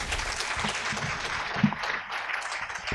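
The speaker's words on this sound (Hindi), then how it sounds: "ज़ोरदार तालियां हो जाएं।" Steady applause from a crowd at a Hindi poetry event, a dense wash of clapping that continues throughout at moderate volume.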